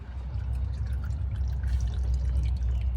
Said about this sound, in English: I gotta let it drain a little bit more as I closed it off